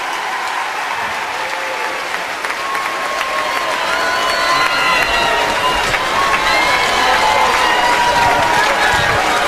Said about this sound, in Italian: un bel applauso a lui